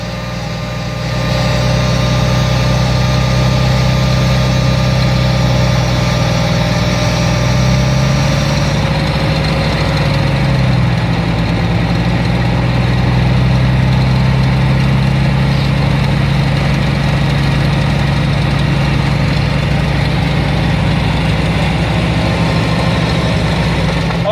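Truck engine revving steadily to build air brake pressure, a loud, close, continuous droning rumble with slight pitch rises and falls, holding a sustained high idle throughout.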